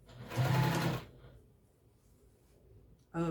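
Sewing machine stitching a diagonal seam on a vintage-style apron, a loud steady run of about half a second to a second, then a quiet pause before it starts again briefly at the end.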